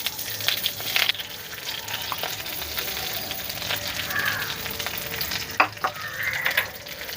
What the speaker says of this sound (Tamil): கருவேப்பிலையை நல்லா மொறுமொறுப்பாக வறுத்துக்கணும்.